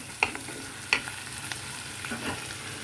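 Boiled eggs are stirred through sizzling fried spice masala, a steady low frying hiss punctuated by a couple of sharp spoon clinks against the pan and softer scraping taps.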